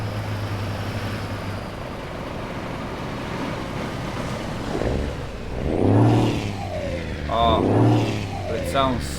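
A heavy truck engine in Euro Truck Simulator 2 drones steadily, then revs up in a few rising surges, with a voice talking over it.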